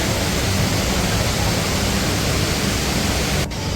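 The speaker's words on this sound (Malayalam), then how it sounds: "ദുബായ് വാട്ടർഫാൾസിൻ്റെ ഉള്ളിലാണ്, ദുബായ് മാളിൻ്റെ ഉള്ളിൽ ഇവിടെ ഉണ്ട്" Indoor waterfall inside Dubai Mall, a steady broadband rush of falling water filling the space at an even, loud level, cutting out abruptly near the end.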